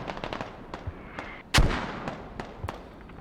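Mortar fire in the military video game Squad: one loud, sharp blast midway that rings out over a backdrop of scattered distant shots and pops.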